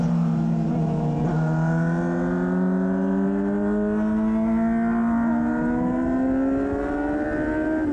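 A race car on a track day accelerates hard and steadily, with a loud close engine note that climbs in pitch through the gears, heard as an in-car perspective with no break.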